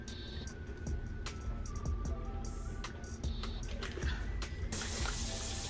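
Warm water runs from a bathroom tap for face washing, a faint steady trickle with scattered clicks and small knocks over it, and a brighter splash near the end.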